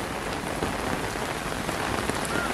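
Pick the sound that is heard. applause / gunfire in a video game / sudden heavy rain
sudden heavy rain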